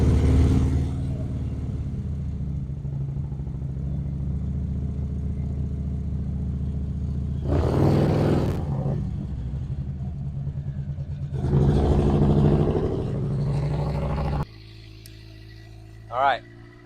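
A motorcycle engine idles as a low steady rumble, then rises in two short throttle blips during slow riding practice in first gear with the clutch in the friction zone, while an instructor talks over it.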